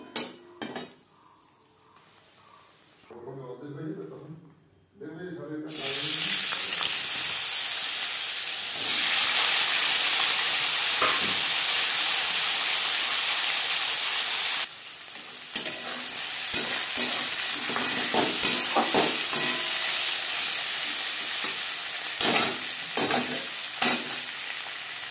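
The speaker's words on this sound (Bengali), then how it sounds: "পাঁপড়ও ভেজে নেব।" Papad frying in hot oil for a rainy-day vegetarian Gobindobhog rice khichuri meal, giving a loud sustained close sizzle and hiss with stirring and scraping against the pan, broken by brief quieter gaps.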